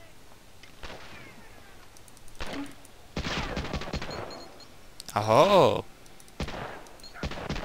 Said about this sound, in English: I'm getting shot from some random guy.